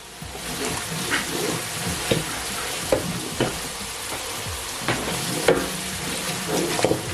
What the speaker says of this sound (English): the tomato is frying perfectly well